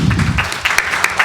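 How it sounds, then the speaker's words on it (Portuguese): Round of applause in a legislative session chamber, with dense clapping from a crowd close by, steady through the short moment. "salva de palmas merecidas."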